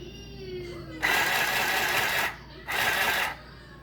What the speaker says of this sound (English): now you're going to sew The whole thing. all the way to the edge.